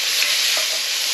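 Bacon browning in a hot pan gives off a loud, steady frying sizzle, a dense crackling hiss that runs unbroken with no one speaking.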